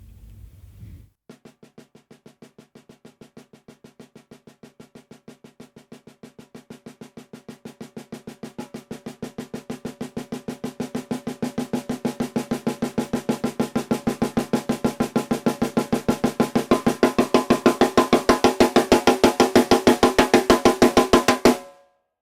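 Single drum strokes on one drum played at a steady, even tempo, starting soft and growing steadily louder throughout, each hit sharp and close with no talking.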